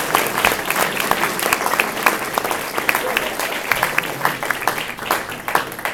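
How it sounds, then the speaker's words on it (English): University awards ceremony audience applauds graduate prize winners, a loud, sustained crowd clapping with many distinct individual claps, steady for the whole stretch without speech. "what about a round of applause for all our graduate prize winners?"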